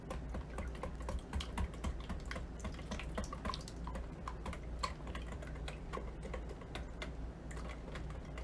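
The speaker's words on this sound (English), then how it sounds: "Now I'm just gonna whisk this together." Eggs, milk, cinnamon and butter being whisked for a homemade peach cake, heard as rapid, irregular clicking and tapping of a whisk against a bowl, close and steady with no talking.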